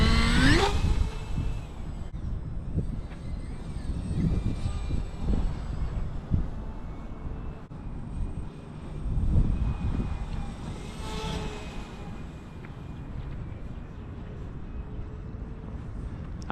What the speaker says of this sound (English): I'll go ahead and I'll do some flights around me, show you how maneuverable this aircraft is.